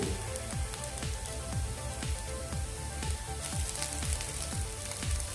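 Bombil chutney sizzles and spatters softly in a pan while being sautéed, a continuous crackle broken by regular scraping stirs, faint and close.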